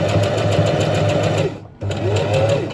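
A sewing machine runs steadily while stitching a hem into canvas for a camp stool, a fast even needle chatter that cuts out briefly near the end and then resumes, close and loud with no talking.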